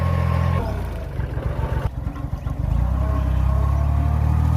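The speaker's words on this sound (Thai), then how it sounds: "เราจะใช้รถไถปั่นนะคะ" A walk-behind tractor's rotary tiller engine chugs loudly nearby, rumbling with an uneven, throbbing idle that swells again toward the end, while preparing soil for seedlings.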